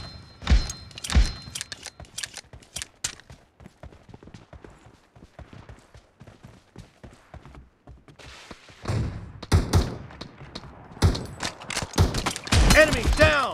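Gunfire in the mobile battle royale game PUBG Mobile: bursts of shots crack out near the start, then a quieter stretch, followed by louder rapid volleys and impacts toward the end, with voices talking over the action.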